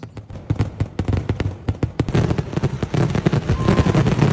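Fireworks at the Nenmara Vallangi Vela temple festival in Kerala crackle and pop in rapid bursts, sparse at first and then thickening into a dense, continuous crackling.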